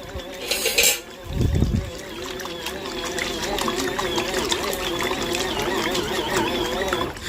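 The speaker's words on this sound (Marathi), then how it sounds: "ॲटोमॅटिकली ते थांबतं पण आणि चालू पण होतं पुन्हा पुन्हा" A small washing machine for baby clothes churns water, a steady sloshing whir with faint mechanical wobble that runs continuously after a brief splash and thump at the start, heard up close and without talk.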